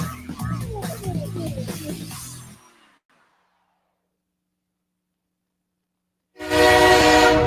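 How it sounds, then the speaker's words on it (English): A train horn blares in a loud sustained blast, then cuts off into silence before another loud blast starts abruptly near the end. "The train!"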